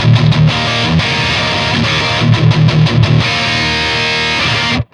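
Kiesel custom electric guitar played through a heavy distorted rhythm tone in pickup position 5, with tight chugging palm-muted riffs and ringing power chords, loud and close, cutting off abruptly at the end.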